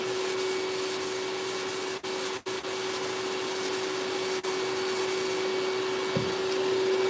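Steady continuous sanding hiss from an Eastwood Contour DSB vacuum sanding block, with a constant vacuum hose drone underneath and a few brief dropouts, no talk.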